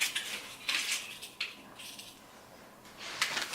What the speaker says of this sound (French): on va étaler les petits moules qui sont fournis avec sur une plaque de cuisson